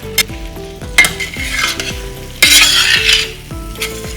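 Onions frying over high heat in a pan for a paneer dish, a steady sizzle broken by rhythmic scraping knocks of a spoon stirring against the metal, loud and close.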